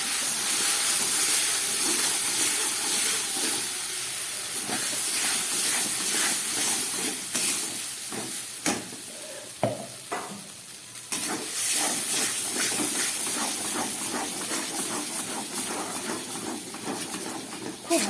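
A paste of potato and chana dal frying in a pan with black cumin and green chilli, a loud continuous hissing sizzle broken by scraping stirs and occasional clatter, no one talking.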